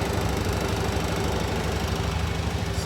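A 2021 Honda Pioneer 700-4 Deluxe UTV engine idles just after starting, a steady close low chugging rumble with even rapid pulses and no voices.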